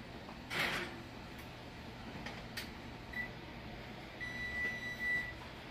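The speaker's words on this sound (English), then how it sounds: "My timer has just gone off." A kitchen oven timer beeps a few short, thin tones amid a quiet room hum, with one brief louder knock early on and no talking.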